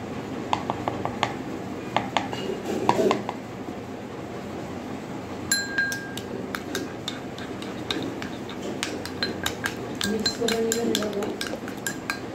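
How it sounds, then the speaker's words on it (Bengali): A spoon stirs an egg dish seasoned with garam masala and black pepper powder, giving repeated light metallic clinks and scrapes against a pan, irregular and close, over a steady low background hum. "স্টিয়ারিং করা হচ্ছে নাড়াচাড়া করা হচ্ছে মিক্স করার জন্য"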